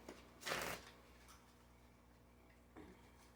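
Tarot cards being shuffled by hand: one loud riffling burst near the start, then quiet, then a second softer shuffle near the end, close and clear with no voices.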